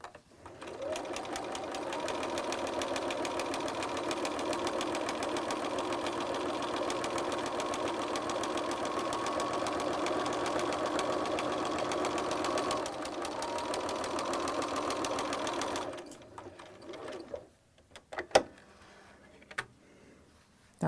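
A sewing machine stitches a flat felled seam at 1.5 with a steady, close, rapid mechanical whir for about sixteen seconds, then stops, followed by a few clicks and handling knocks.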